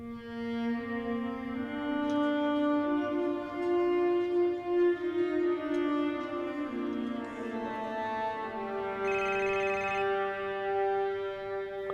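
A melodic electronic ringtone plays steadily on its own, a sustained tonal tune with a brief brighter beep near the end.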